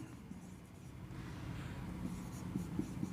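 Marker or chalk scratches across a board while someone explains a math lesson, the writing strokes faint and intermittent beneath a quiet room hum.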